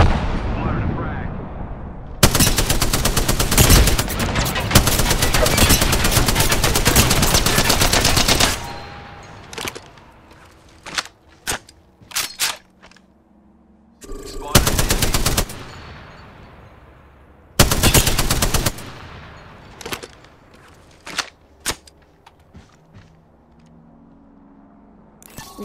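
Long bursts of automatic weapon fire in Apex Legends alternate with single gunshots and clicks, loud and close, with quieter gaps and voices calling out now and then.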